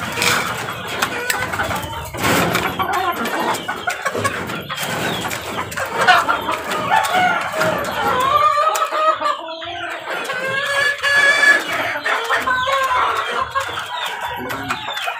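Backyard pet chickens cluck in a busy morning scene as they wait to be fed, their calls mixing with steady nearby talking and other background noise.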